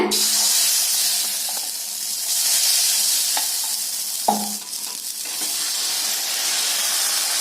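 Appam batter meets a hot pan and sizzles loudly and steadily, a close, dense hiss with a brief scrape or clink partway through.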